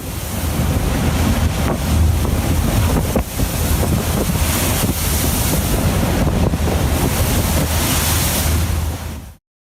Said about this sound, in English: A large fishing boat in the North Atlantic faces turbulent waters, looking like a toy ship.